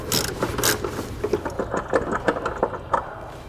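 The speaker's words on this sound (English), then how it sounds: "We'll now remove the jounce bumper with a 14 millimeter socket." A ratchet with a 14 mm socket and small extension backs out a jounce bumper bolt, quick repeated clicking strokes in short bursts, close and fairly quiet.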